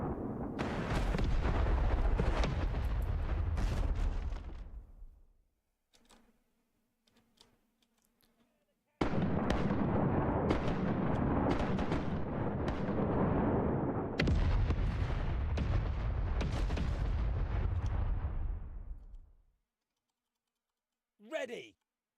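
Cannons fire from a ship in three long roaring volleys separated by near silence, loud and heavy, followed by a short faint sound at the end.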